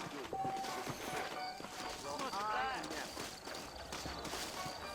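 Horse hooves clip-clop in the Western game Red Dead Redemption on Xbox 360, a rhythmic clatter running under game ambience and a short whinny-like tone.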